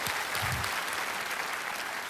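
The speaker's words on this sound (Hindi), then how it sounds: "तालियां बज जाए इनके लिए।" Loud, sustained applause from a television quiz show studio audience, dense clapping filling the whole clip evenly with no speech on top.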